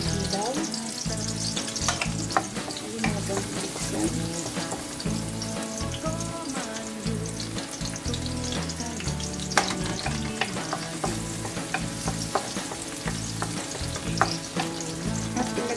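Garlic sautéing in hot cooking oil for ginisang sitaw, a continuous close sizzle and crackle with stirring and spatula clicks running through, steady and fairly loud with no voices.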